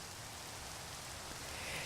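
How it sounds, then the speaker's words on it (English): Steady rain falls in Minecraft, a soft, even hiss of drops that stays constant and fairly quiet throughout with nothing else over it. "when it's raining like it is right now"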